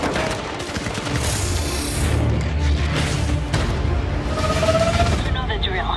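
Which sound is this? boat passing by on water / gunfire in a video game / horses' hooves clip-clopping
gunfire in a video game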